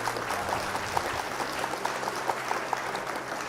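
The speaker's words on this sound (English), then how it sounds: "Round of applause for opponents." A small crowd applauds steadily after a card game match, a continuous patter of clapping at moderate volume with a faint background hum.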